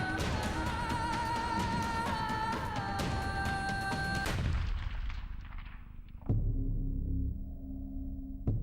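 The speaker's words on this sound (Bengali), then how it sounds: "ই রাতে খামার বাড়িতে এমন কি হয়েছিল যার জন্য সঞ্জয়কে গুলি করা হয়েছিল?" A gunshot sound effect rings out in a Bengali Crime Patrol crime-drama reenactment. It is a single loud, sharp crack over dramatic background music, and a lower rumbling tail follows.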